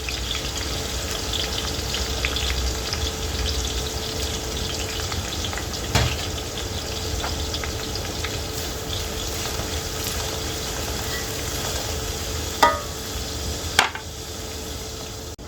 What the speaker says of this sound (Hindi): फिर दूसरा बैच डालूँगी और फिर वो फ्राई करूँगी